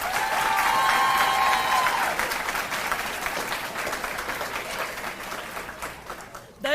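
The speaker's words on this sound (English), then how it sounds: "I would really like for everyone to give these kids a round of applause." Audience applause at a 2022 all-sports school banquet, loud steady clapping from a large crowd that gradually thins and fades over several seconds.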